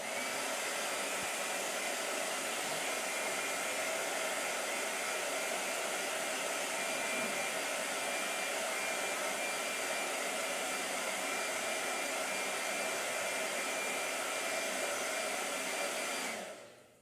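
A hair dryer blows steadily and loudly for the whole stretch, a continuous broad whooshing roar that cuts off abruptly at the very end.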